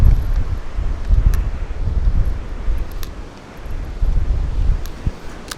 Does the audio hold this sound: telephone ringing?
no